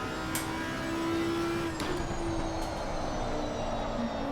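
Audi R8 Evo race car accelerating in Assetto Corsa Competizione at Zolder, a steady droning engine note held close and loud throughout with a sustained tonal whine, no talking.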